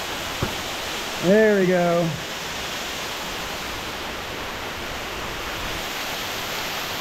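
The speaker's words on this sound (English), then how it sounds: "Look at that waterfall, man" Steady, broadband rush of a waterfall inside a cave fills the whole stretch evenly, with a voice speaking briefly over it near the start.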